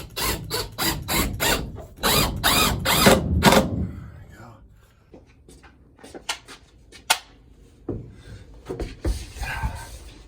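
A power drill drives screws up into ceiling boards inside a van build, loud rapid whirring bursts in quick succession, then quieter scattered clicks and handling noises with faint voices.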